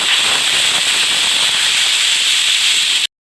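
A pressure cooker whistles while boiling cut, washed potatoes: one loud, steady, close steam hiss that holds for about three seconds and then stops abruptly.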